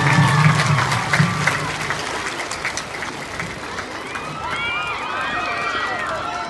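A crowd claps and cheers at an Indonesian Independence Day gathering while a student climbs a flagpole. The clapping is rhythmic and mixed with shouting voices, and there is an outdoor bustle.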